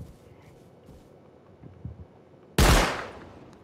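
Turrets in a video game fire a sudden loud burst of gunfire that decays over about a second, following quieter game ambience.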